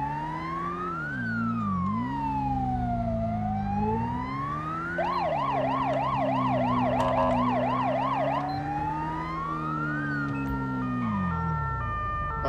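Wailing and yelping ambulance siren in the game GTA 5 during a police escort, loud and continuous throughout, sweeping slowly before switching to a rapid yelp pattern and back, with vehicle engine rumble underneath.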